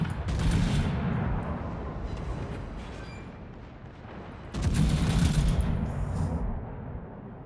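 Heavy naval gun salvos from the Ishizuchi battleship in World of Warships, two loud booming volleys with rumbling tails, the second striking after a quieter lull.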